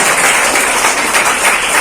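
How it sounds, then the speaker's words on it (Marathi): Loud, steady applause from an audience at a Rajmata Ahilyabai Holkar birth anniversary event, cheering a schoolgirl from Gurukrupa Vidyamandir, Usatne, honoured for scoring ninety percent; dense, continuous clapping without breaks. "जोरदार टाळ्या याच्यासाठी वाजवायच्या आहेत"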